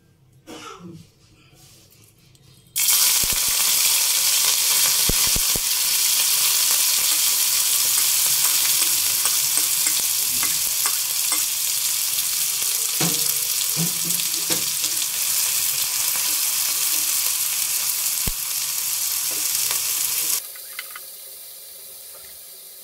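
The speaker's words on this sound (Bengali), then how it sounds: "এখন আমি চিংড়ি মাছগুলো দিয়ে দিব।" Prawns go into hot oil in a wok and set off a loud, close, continuous hiss and sizzle. It starts abruptly after a quiet moment, holds steady for about eighteen seconds, then cuts off near the end.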